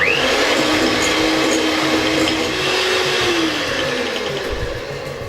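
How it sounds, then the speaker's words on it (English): An electric mixer creams butter in a mixing bowl for red velvet cake, producing a loud, continuous motor whir with a steady pitch that dips slightly toward the end, close up with no talking. "We are going to start off by adding 1/3 cup of butter to a mixing bowl and cream this well for about a minute."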